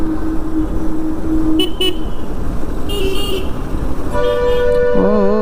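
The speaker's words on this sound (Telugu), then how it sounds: "ఓ ఎందుకయ్యా హారన్లు అని కొట్టుకుంటున్నావు?" Vehicle horns honk repeatedly on a road near the Srisailam dam, a short toot followed by longer blasts, over the steady rumble of traffic and a motorcycle engine.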